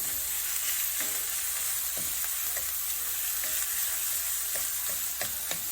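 Ackee and saltfish patty filling with Scotch bonnet sautéing in a pan, a steady sizzle with occasional scraping and stirring clicks throughout, no talk.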